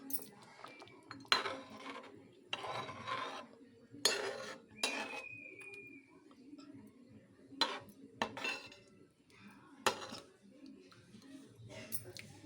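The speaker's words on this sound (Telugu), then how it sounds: "దాన్ని ఇందులో వేసుకోవాలి. వేసుకొని బాగా కలుపుకొని" Tamarind juice being stirred into Andhra fish curry in a pot, with repeated metal spoon clinks and scrapes against the pot in irregular bursts, quiet and close, and a voice speaking between the strokes.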